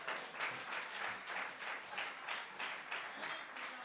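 Rhythmic audience clapping at the Hindi Yuva Sangam event at the Nehru Centre, many hands striking in a steady pulsing beat at moderate loudness.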